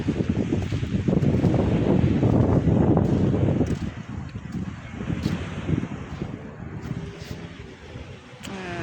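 Strong wind buffets a boat out at sea, loud broadband roar and microphone rumble heaviest in the first few seconds, then easing into steadier gusty noise with faint water wash beneath.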